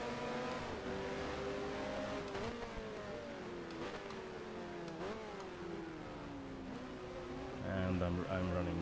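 A 1972 Formula 1 car in the F1 Challenge video game, lapping a wet British circuit: a close, continuous engine wail repeatedly climbing in pitch and dropping at each gear change, with a voice talking over it.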